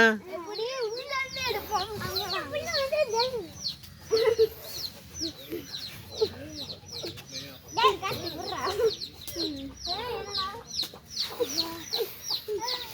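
Young peafowl chicks giving repeated high, wavering chirps and calls at a rural harvest festival, bursts of calling mixed with people talking and children's voices nearby.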